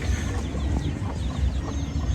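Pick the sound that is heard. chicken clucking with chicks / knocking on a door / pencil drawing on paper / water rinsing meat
chicken clucking with chicks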